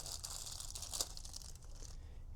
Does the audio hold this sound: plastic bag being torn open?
yes